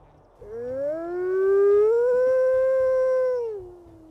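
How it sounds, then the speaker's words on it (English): A single long, deep wolf howl rises and holds steady for about three seconds, then slides down and fades, loud and close. "Let's go ahead and listen to his howls too."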